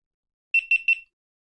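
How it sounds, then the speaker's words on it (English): A GoPro Hero 13 action camera gives three quick, high electronic beeps as it powers on, clear and close in an otherwise silent room. "Once you hear the beep,"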